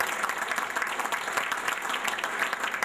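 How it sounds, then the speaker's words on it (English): Applause from the crowd at a community chest mayor's golf outing in Lynbrook: a steady, dense wash of clapping that holds at an even level for the whole stretch, with no voices standing out. "I want you to give yourselves a big round of applause."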